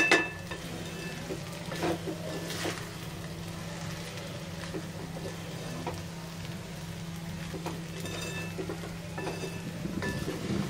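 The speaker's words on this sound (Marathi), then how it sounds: "आणि छान असं हलवायचं म्हणजे शेंगदाण्याचं कूट सगळीकडे असं लागेल." Maharashtrian-style sabudana khichdi with crushed peanuts is stirred in a pan, a soft continuous sizzle under a low hum broken by repeated spatula scrapes and light clinks against the metal.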